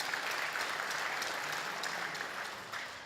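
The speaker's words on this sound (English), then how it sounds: "I'd like us to give them a round of applause," A dense, steady wash of audience applause fills a formal launch event for a patients' bill of rights, sustained at even strength throughout with no voices.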